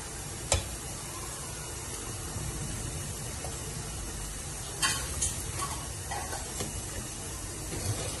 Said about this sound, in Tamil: தண்ணி ஊத்திட்டு நல்லா கலக்கிட்டு நம்ம அது கொதிக்கட்டும் மூடி வைக்கலாம்.